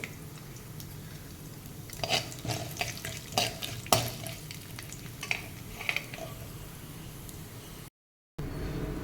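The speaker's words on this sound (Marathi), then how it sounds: "उडीद दाल साधारण रंग बदलेपर्यंत परतून घ्यायची आहे" Urad dal sautés in a pan with a low background sizzle, broken by a series of soft scraping and tapping stirs in the middle stretch, then a brief dropout near the end.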